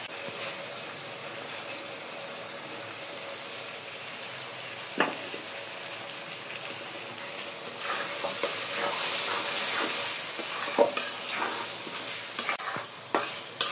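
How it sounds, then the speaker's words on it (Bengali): Red lentils frying with spices in a pan, a steady soft sizzle with scraping stirs and occasional clinks of the spoon, close and moderately quiet, no talking. "মশলার সাথে 2 মিনিটের জন্য একটু"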